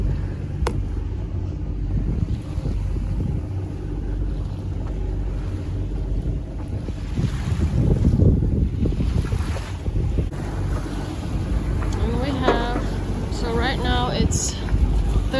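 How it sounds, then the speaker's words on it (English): A catamaran under sail on the open ocean, with steady wind buffeting the microphone and waves washing against the hulls, a continuous loud rush with no talk. "we sail for a little bit and then we motor sail"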